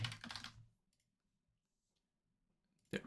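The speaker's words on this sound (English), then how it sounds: "you can type a PIN code" Fingers tap a PIN code on a computer keyboard in a short burst of quick, soft keystrokes, then go quiet before a brief second flurry of clicks at the end.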